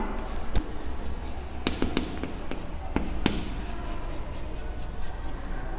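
Pen or pencil writing on paper during a maths lesson, heard as a few short scratchy strokes and light taps, fairly close and quiet over a low steady background hum.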